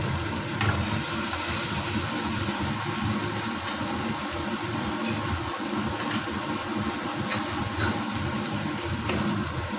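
Poppy seed paste sautéing in a pan for a pomfret fish curry, a steady close sizzle and crackle running unbroken throughout with no talking.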